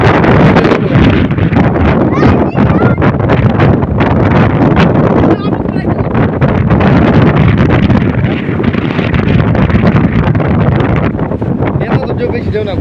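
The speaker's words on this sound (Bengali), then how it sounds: "বাতাসের গতিবেগ দেখেন, গাছগুলা দেখছেন এই লেগেছে গা, বাতাসের এত গতিবেগ" Strong gusting wind in a village blows hard against the microphone and through the trees, producing a loud, continuous roar with rustling. A person talks over it.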